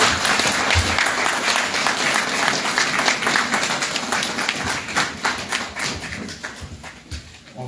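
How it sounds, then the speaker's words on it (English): Applause at a community council meeting inside St Albans Church, a steady crowd clapping that holds for several seconds and gradually thins out toward the end. "So I want to give them a big round of applause for what they did"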